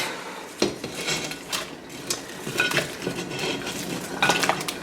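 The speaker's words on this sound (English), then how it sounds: "So I'm just going to add all of this to my pot." Crab stock ingredients and bay leaves go into a pot with close clinks, knocks and scraping of a utensil against metal, a busy clatter of dish and cutlery sounds throughout.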